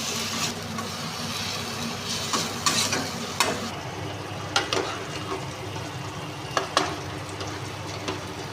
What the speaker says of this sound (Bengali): ভালো করে ভেজে নেব যতক্ষণ না তেল বেরিয়ে আসছে।